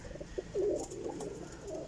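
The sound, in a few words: pigeons cooing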